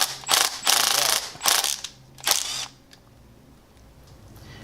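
A thread chaser is run in and out of the head bolt holes of an engine block, giving several loud bursts of scraping, ratcheting metal followed by quieter faint clicks.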